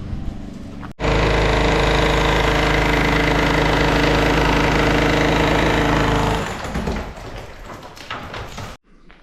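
A mini excavator's diesel engine runs loud and steady on a building site, with a sharp start, a droning hum for about five seconds, then an easing off into rougher, quieter rumbling before cutting out.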